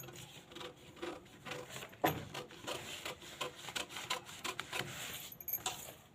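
Scissors cut through paper or cloth for a katori blouse pattern, a run of close, crisp snipping and rubbing strokes with a sharper snap near the two-second mark, alone without talk.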